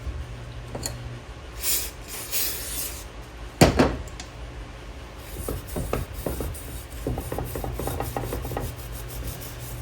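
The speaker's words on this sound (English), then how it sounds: "rub that scuff pad around that edge, make sure there's no grease or anything left on it" A scuff pad scrubs the edge of an old cosmoline-coated Shovelhead motorcycle clutch part, soft close scratchy rubbing strokes with a sharp knock partway through and quicker rasping strokes toward the end.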